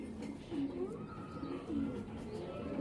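A pair of pigeons cooing softly nearby, several low repeated coos in a quiet room, with faint talk in the background.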